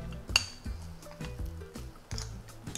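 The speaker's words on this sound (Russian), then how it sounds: "Разминаю его немного вилкой и отправляю к кабачку." A fork clinks repeatedly against a bowl as cottage cheese is mashed for a zucchini spread, giving several sharp, close metallic taps at an irregular rhythm with soft squishing between them.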